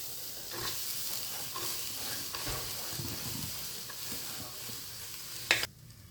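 Chopped onion, ginger and garlic cooking in a pot without oil, a soft sizzle with occasional stirring scrapes, fairly faint, ending in a brief clatter.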